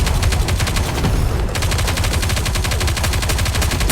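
Loud, continuous rapid-fire gunshots from the video game NIKKE: Goddess of Victory, an unbroken automatic burst that fills the whole stretch.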